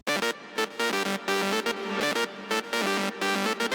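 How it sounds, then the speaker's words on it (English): An SEM synth melody layer from Analog Lab plays bright, buzzy, harmonically rich notes in choppy bursts with short gaps between them, loud and alone. "the third layer is from SEM, apparently, also from Analog Lab"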